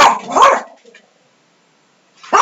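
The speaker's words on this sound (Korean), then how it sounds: "우리 강아지들이" Pet dogs barking in a burst of several loud, close yaps, then quiet, with another bark starting at the end.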